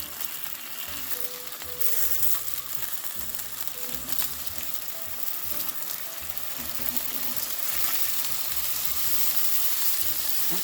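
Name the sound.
chicken burger patties sizzling in a frying pan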